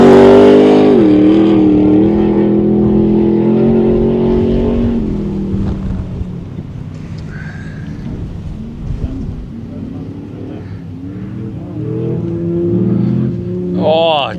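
Rally car on a motorkhana stage, engine loud and close with strong harmonic revving that rises and falls, fading into steadier mid-distance running before a sharp rev burst at the end; a commentator talks over it.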